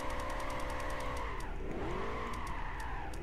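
Ford GT drifting in the racing game Gran Turismo 5, a loud steady engine drone with sustained squealing tires that bend in pitch through a left-right transition, continuous and close with no talk.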